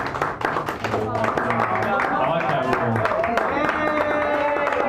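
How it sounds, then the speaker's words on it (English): An open mic crowd in a San Francisco cafe claps steadily, with a dense patter of hand claps continuing under a voice speaking over it. "You have to clap."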